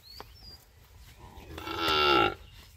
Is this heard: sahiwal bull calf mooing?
yes